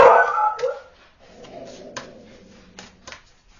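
A loud puppy yelps and barks in a few sharp bursts indoors, followed by quieter whimpering yips and short barks.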